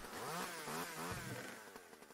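Chainsaw cutting down trees in a video game, a buzzing two-stroke whine rising and falling in pitch with revving, steady and fairly loud throughout with no voices.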